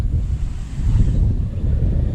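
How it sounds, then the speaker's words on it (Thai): Wind gusting outdoors while sitting up in a tree by a fishing spot near a road, a steady low rushing buffet on the microphone that carries on without a break, with no voices over it. "แต่ลมเริ่มมาแล้วครับ ลม"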